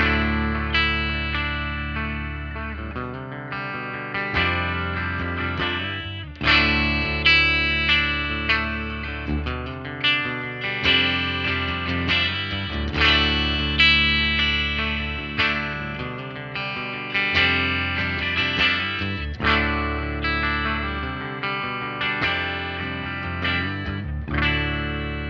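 Electric guitar through a Xotic Super Clean Buffer pedal, gain at zero, plays bright, clean chords and ringing notes in a steady rhythmic pattern, each attack decaying before the next, with no talking.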